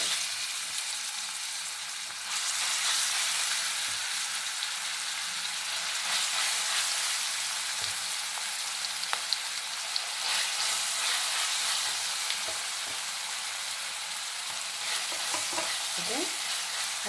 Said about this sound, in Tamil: அடுப்பை கொஞ்சம் மீடியம் ஃப்ளேமில் வச்சுட்டு இதை நல்லா பச்சை வாசனைலாம், கரம் மசாலா இருக்கிற பச்சை வாசனைலாம் போகிற அளவுக்கு வதக்கி எடுப்போம்.